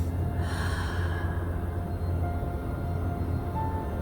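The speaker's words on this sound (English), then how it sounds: "And then breathe out gently through the mouth." A slow, gentle exhale through the mouth during a guided meditation, a soft close breath near the start trailing off into quiet room hum.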